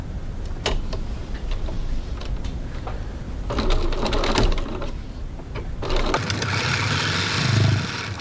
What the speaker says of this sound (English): So we'll go over to the sewing machine and do that.